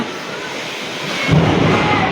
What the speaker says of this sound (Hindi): आज दूसरी बार फोड़ रही हूँ बीड़ी बम